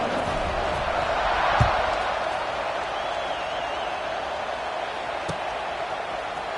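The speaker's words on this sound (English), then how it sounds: "this crowd now ready to get behind them" Stadium crowd in College Football 26 roars steadily at kickoff, a broad continuous wash of cheering with a couple of brief thuds, the noise sustained and even throughout.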